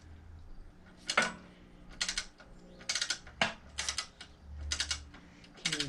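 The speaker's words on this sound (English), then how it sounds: "Okay, so we got to get on it with a wrench." A wrench works on a nut fitted to an engine guard on a 2018 Harley-Davidson Sport Glide Softail, giving a series of sharp, close metallic clicks and scrapes in irregular bursts, with brief pauses between them.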